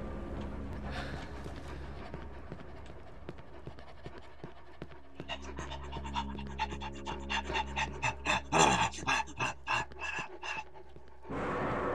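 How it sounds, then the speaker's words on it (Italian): A dog pants rapidly in the horror video game Cry of Fear, a run of quick breathy gasps that grows louder and more pronounced in the latter half over a low droning game ambience. "Ma non è che il cane sta qua dietro?"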